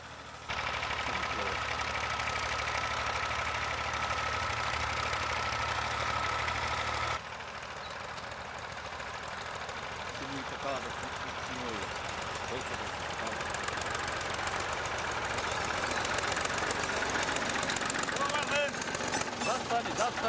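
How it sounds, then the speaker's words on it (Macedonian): Several tractor engines hum and rumble steadily in the distance in a village, a low continuous drone with some voices audible over it. "вниманието ми го привлече брмчењето на неколку трактори"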